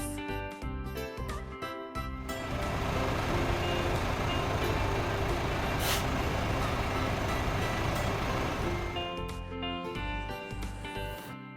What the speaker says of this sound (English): White. Airport bus.